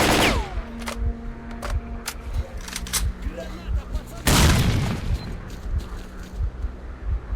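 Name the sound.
grenade explosion in S.T.A.L.K.E.R. Clear Sky video game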